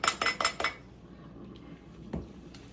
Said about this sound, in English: I'm going to go ahead and put the cinnamon in my espresso cup as well as my brown sugar